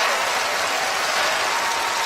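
A seated audience at a magic show gives a round of applause for the volunteers. Dense, even clapping fills the whole short stretch with no voices above it.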